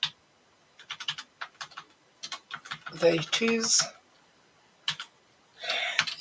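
A misbehaving computer keyboard clatters in scattered bursts of quick key clicks, close and crisp, with a person's voice briefly heard among the taps.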